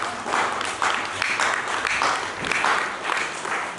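A church congregation claps and acclaims during a sermon, with loud, dense clapping that swells in rhythmic waves of roughly two per second.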